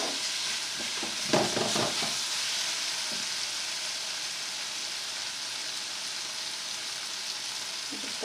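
Fajitas sizzle in an old, weathered, high-sided sauté pan, a steady bright hiss with a few louder crackles and stirring bursts near the start, then a constant close frying sound.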